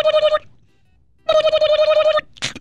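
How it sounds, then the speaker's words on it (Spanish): A telephone ringing in a house, with a short burst of trilling electronic rings, a pause, then a longer burst, followed by a brief rushing noise; loud and close. "Suena el teléfono en una casa"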